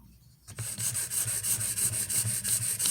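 Benchmade 13940 knife blade stroked across a Venev diamond stone on an Edge Pro Apex clone sharpener, rhythmic back-and-forth grinding scrapes starting after a short silence, close and steady.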